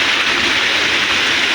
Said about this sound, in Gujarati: એટલો વરસાદ આવે છે